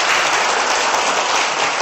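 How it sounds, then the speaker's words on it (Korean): Dense, steady applause from an audience at a lecture in Los Angeles, many hands clapping at once in a continuous loud wash with no gaps and no voices on top. "응원의 박수와 인사 한마디 해주세요"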